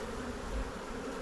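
Honey bees from a hive swarm being inspected during a frame transfer make a dense, continuous buzzing drone, steady and close, with no voices.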